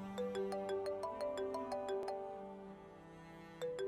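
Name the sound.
phone ringtone ringing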